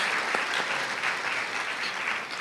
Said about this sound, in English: That was an applause without even really seeing the work yet here